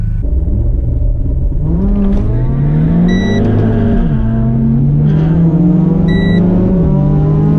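A Peugeot 206 accelerates hard in a loud, close engine roar, revs climbing and dropping through gear changes, with a pair of brief high tones sounding twice.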